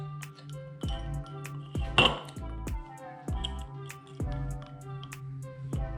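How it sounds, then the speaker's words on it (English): A spoon stirs liquid in a cup during a fizz science experiment, giving a few light clinks and taps against the container over a steady tonal background. "Let's give this one a little bit of a stir."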